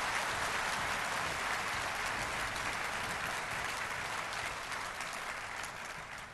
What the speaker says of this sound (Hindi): एक बार आपको तालियों के गड़गड़ाहट से उनका स्वागत करिए